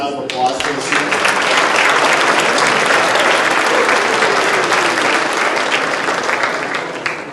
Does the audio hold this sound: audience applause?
yes